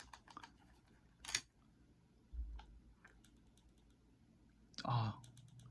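Spacebar on a Realforce Topre keyboard, heard as a few isolated, quiet clacks with a slight rattle, spaced seconds apart in a hushed room.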